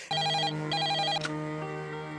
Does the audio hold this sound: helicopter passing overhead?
no